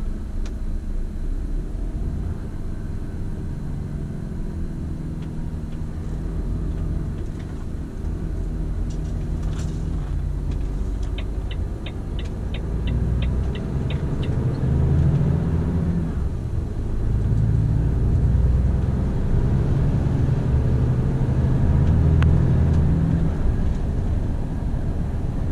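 Volvo FH500 truck coasting along a road in automatic with no throttle, a steady low engine and road rumble inside the cab, with a brief run of ticking clicks like an indicator partway through and the drone growing slightly fuller toward the end.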